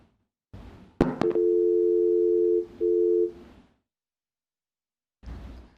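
Telephone tone after a live caller's call drops during a broadcast: a sharp click, then two steady electronic tone bursts separated by a short gap, loud and alone, followed by quiet.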